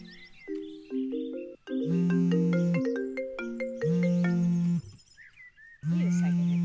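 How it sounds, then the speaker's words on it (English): A phone ringtone in an animated Minecraft story plays a loud, close melodic sequence of stepped electronic tones that repeats in bursts with brief gaps, with short voice sounds between phrases. "What's a ringtone?"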